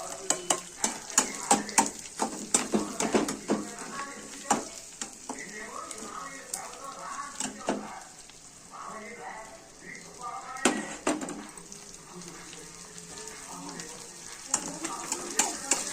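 Onions frying with curry leaves in a pan, a continuous sizzle under repeated scraping and clattering of a spoon as they are stirred, with a voice talking quietly over it.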